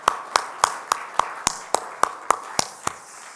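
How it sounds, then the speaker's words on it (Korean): Church congregation at a Friday worship service clapping in unison, about eleven evenly spaced sharp claps at a steady brisk rhythm, moderately close in a reverberant room. "우리 하나님께 영광의 박수 올려드릴까요?"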